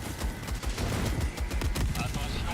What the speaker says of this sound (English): there's mortars from the mortar facility, and then there's also fucking mortars